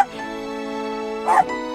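A dog barks once or twice in the comedy film Ernest Scared Stupid, a short yip rising over sustained music.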